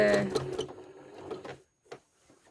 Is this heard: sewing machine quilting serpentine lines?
yes